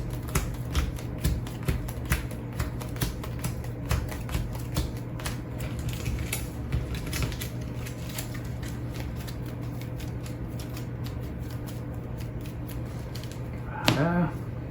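Cards from a Heat racing board game deck are shuffled with a steady, rapid riffling patter lasting many seconds over a low background hum, close and moderately quiet.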